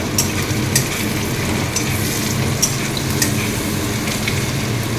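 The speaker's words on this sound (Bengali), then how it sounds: "পেঁয়াজটা আমার আর মোটামুটি ভাজা হয়ে গেছে তো এবার মশলাটা দিয়ে দেবো পেঁয়াজের মধ্যে" Onions frying in a pan for a mutton and potato curry, with steady close sizzling and crackling and occasional stirring clicks throughout, no voices.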